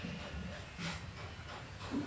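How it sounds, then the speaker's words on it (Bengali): Mustard oil in a fully heated wok (kadai) before frying hilsa fish, giving a faint continuous hiss with soft pulsing swells across the short stretch and no voice. "কড়াই পুরোপুরি গরম হয়ে গেছে কড়াইতে সর্ষের তেল দিলাম"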